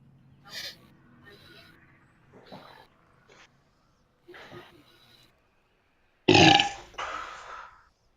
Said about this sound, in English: That was a very loud burp.